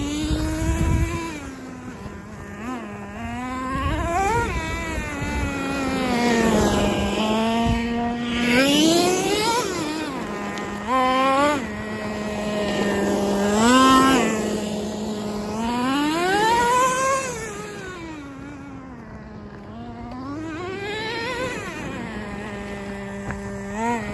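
The engine of a Traxxas T-Maxx 2.5 nitro RC truck driving on gravel, close and loud. It buzzes high and rises and falls repeatedly with throttle bursts across the run.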